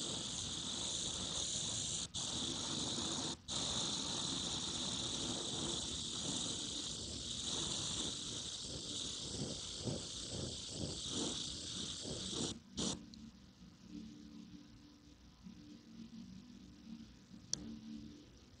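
An airbrush lightly misting paint over a feather template: a steady, close hiss of air spray running continuously for about twelve seconds with brief breaks, then stopping into quiet room noise and a faint click.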